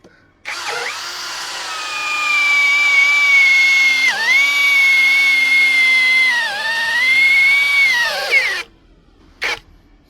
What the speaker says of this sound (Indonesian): Ini kecepatan maksimal, mata bornya yang self drilling nih, diameter 20 mili atau 2 cm